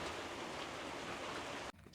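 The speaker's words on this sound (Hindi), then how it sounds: "अब बारिश थोड़ी कम हो गई है" Steady monsoon rain near the Matla River at the gateway to the Sundarbans, a dense even hiss of falling water that drops away abruptly near the end, leaving a quieter patter.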